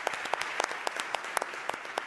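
Audience at a Board of Supervisors meeting applauding, a steady patter of many hands clapping at moderate distance, with no talk over it.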